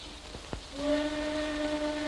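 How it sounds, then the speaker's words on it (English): A steady, high train whistle with layered tones begins partway through and holds to the end, following a faint thump and a few brief swishes. "Train whistle."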